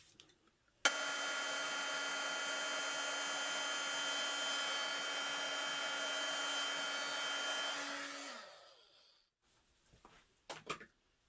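A heat tool blasts hot air over embossing powder on stamped flower stems on a card, a loud steady whirring hiss for about seven seconds that winds down and stops, followed by a couple of faint clicks.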